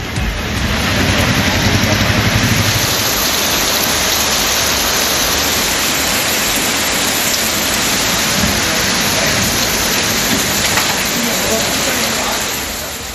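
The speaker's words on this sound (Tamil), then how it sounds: "நேற்று மாலை 2 மணி நேரத்திற்கு மேலாக கனமழை கொட்டித் தீர்த்தது." Heavy rain pours down in a loud, dense, unbroken roar of hissing water that holds steady for the whole stretch before easing slightly at the end.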